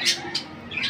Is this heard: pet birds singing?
yes